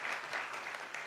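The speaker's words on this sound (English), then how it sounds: "let us have a combined round of applause for all the experts seated on the dais" A brief burst of thick audience applause for a panel of experts seated on the dais at a municipal bond website launch event, steady and even throughout.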